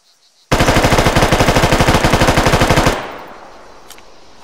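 A fully automatic M4A1 rifle from the Arma 3 RHS mod fires one loud, continuous burst of rapid, evenly spaced shots lasting about two and a half seconds, then a short echoing tail fades into quiet.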